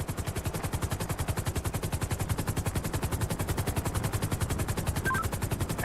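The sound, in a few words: gunfire in the video game GTA 5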